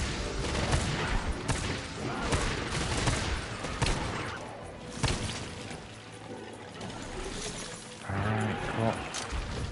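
Sustained weapon fire in the video game Monster Hunter World, a dense run of rapid shots and impacts over a busy background of splashing and rumbling, with a louder burst near the end.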